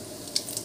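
Cumin seeds sizzling in hot oil for a chutney tempering, a brief close hiss with a few sharp crackling pops near the end.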